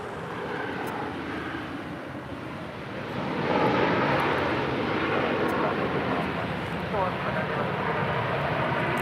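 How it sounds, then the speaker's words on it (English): A WestJet Boeing 737 MAX 8 airliner arriving at LAX from Toronto gives a steady, broad jet roar that swells louder around midway and holds, with faint voices in the background. "That is WestJet 1100 coming in from Toronto on a 737 MAX 8."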